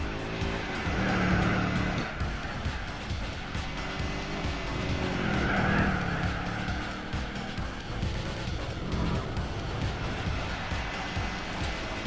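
A Plymouth Superbird in Gran Turismo 4 screams along a straight at redline, its engine droning loud and steady while the tires squeal continuously beneath it.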